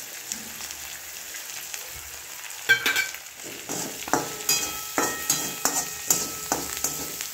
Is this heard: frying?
yes